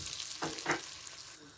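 Bay leaf, cinnamon and black cardamom sizzle in melted butter with a faint hiss and two brief crackling bursts, quiet and close.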